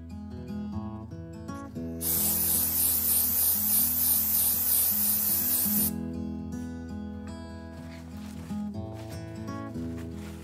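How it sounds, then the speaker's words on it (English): An aerosol can of Apple Garde leather protector hisses in one continuous spray for about four seconds onto vachetta leather, with soft music playing throughout. "So I think I'm done spraying sides all around the bottom here"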